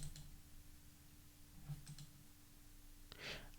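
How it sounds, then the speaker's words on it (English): A computer mouse clicked twice quickly on a Windows PC while running a C graphics program; soft, faint clicks in a quiet room, followed by a few more light taps. "Let's double click."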